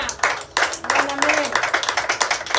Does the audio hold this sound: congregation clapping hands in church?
yes